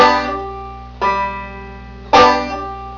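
A banjo pinch is plucked three times, each note ringing briefly before being cut short by a mute, close and clear with no talking.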